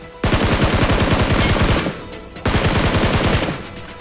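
A UMP submachine gun in BGMI rattles off two rapid, loud bursts of automatic fire, each lasting over a second, separated by a short pause, with no talking.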